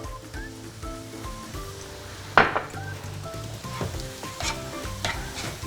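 Mushrooms and all-purpose flour sizzle together in a pan for a soup base, a steady close frying hiss broken by a sharp clack of a utensil midway and soft stirring scrapes.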